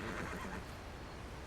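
A horse neighs loudly and close, one long shaky whinny filling the short moment with breathy rough texture and no talk.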